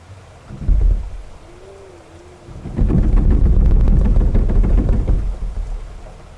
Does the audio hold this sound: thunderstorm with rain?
yes